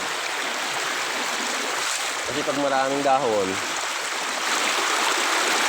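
A small stream in the Philippines flows steadily past leaves along its banks, a continuous close rush of water with someone speaking briefly over it.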